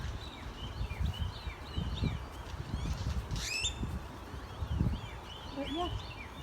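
Outdoor birds chirp in quick high trills and short calls on a farm, scattered across the clip over a noisy background with low thumps and a person talking.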